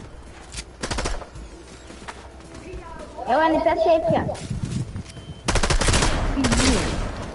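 Bursts of automatic gunfire in Fortnite, fired by an NPC from above, come in short rapid volleys near the start and again loudly toward the end, with an excited player talking in between.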